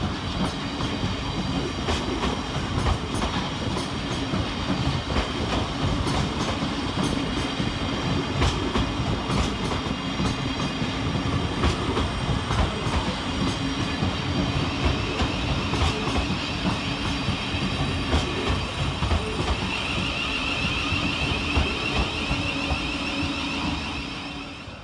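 A Govia Thameslink Class 700 electric train rounds the curve into Strood station, a steady loud rolling rumble with rhythmic wheel clatter and faint high squeal throughout, no voices.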